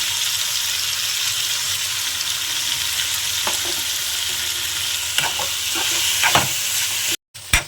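Chicken liver fries in a pan with a loud, constant sizzle, and a spoon scrapes and stirs it in several short strokes near the end.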